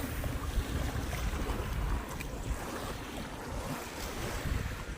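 Waves lapping around a boat on a lake in Switzerland, a steady broadband wash with wind buffeting the microphone throughout, continuous and fairly close, with no voices.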